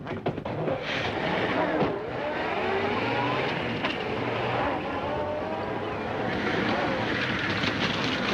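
A rumbling tractor engine drones steadily throughout, the tractor driving close by at a constant pace, with faint voices underneath.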